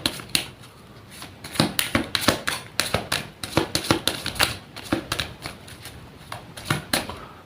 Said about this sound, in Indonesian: Saya ambil juga di sini 3 kartu.